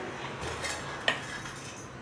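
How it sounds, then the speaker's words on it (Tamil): A single sharp metallic clank as a heavy iron kadai is set down on a surface, with quiet kitchen shuffling around it. "இந்த கீரை தாளிக்கிறதுக்கு கடாய் வச்சுருக்கேன்"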